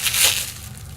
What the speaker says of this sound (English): Slice it, open it up, and unwrap it.